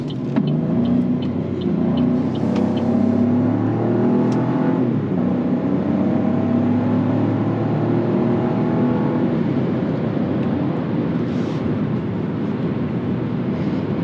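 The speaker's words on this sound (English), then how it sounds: "The engine's not overly loud either." A 2024 Buick Envista Avenir drives along, its engine giving a moderate, steady hum beneath continuous road and tire rumble from inside the cabin, with no talking.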